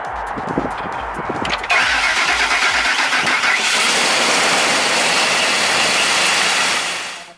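A Ford 5.4-liter engine started with a batteryless jump starter cranks in a rapid rhythmic churn for about two seconds, then catches and roars up to a loud, steady run close by before cutting off.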